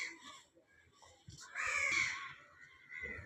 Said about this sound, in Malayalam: ദേ കാക്ക കാക്ക കാക്കേനെ പിടിക്ക്